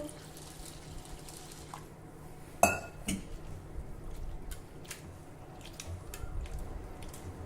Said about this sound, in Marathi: हे पोहे आपण पाण्याने स्वच्छ धुवून घेऊ